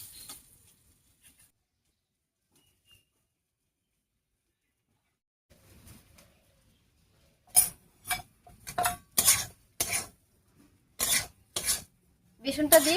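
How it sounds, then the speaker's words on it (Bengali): Gram flour being stirred into fried bitter gourd with a utensil: near silence at first, then a run of sharp scraping and clattering strokes against the pan, close and fairly loud. "এই বেসনটা দিয়ে উচ্ছের সঙ্গে খুব ভালো করে মিশিয়ে নেব"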